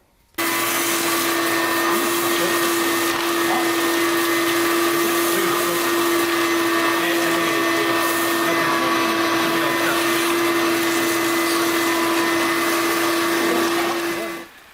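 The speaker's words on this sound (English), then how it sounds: "we finished the vacuuming up the interior" A vacuum cleaner cleans a Datsun 510 car interior, running continuously for the whole stretch, a loud steady whine with a constant hum, switching on at the start and cutting off at the end.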